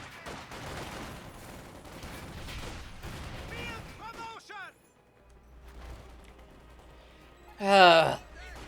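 Rattling bursts of small-arms and machine-gun fire crackle in a Company of Heroes 2 match, followed by a quiet stretch with a low rumble and a sharp loud blast near the end, with someone talking.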